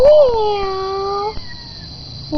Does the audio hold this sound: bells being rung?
no